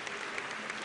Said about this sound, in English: I just want another round of applause because it's awesome.